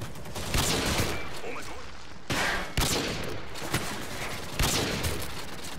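Rapid gunfire from Call of Duty Online during a sniping match, several loud bursts and shots cracking in quick succession with continuous game noise between them.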